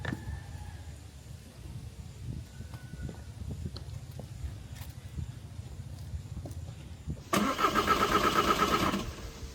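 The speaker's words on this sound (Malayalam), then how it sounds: "വോൾസ് വാഗൺ സ്റ്റാർട്ട് ആവണില്ല" Volkswagen Jetta at night, a quiet low rumble for several seconds, then a louder rhythmic starter cranking for about two seconds without catching and running.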